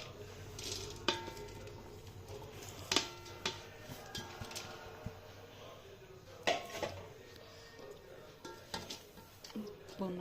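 Cooked rice being spooned and layered into a pot for vegetable dum biryani, with light scraping and clinking of a spoon against the metal pot in scattered taps over a quiet kitchen background.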